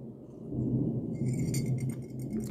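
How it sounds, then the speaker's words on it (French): A deep, rolling rumble of spring thunder from a storm, low and sustained for a couple of seconds, with faint higher crackles near the end. "Vous entendez peut-être l'orage là."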